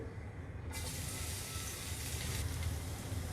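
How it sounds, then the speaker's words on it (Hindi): One tablespoon of chopped garlic hits two teaspoons of hot oil in a pan, bursting into a loud, steady hiss and crackle that carries on evenly after the sudden start. "एक पैन में हमने 2 टीस्पून ऑयल ले लिया है। उसमें हम 1 टेबलस्पून चॉप किया हुआ लहसुन डाल देंगे।"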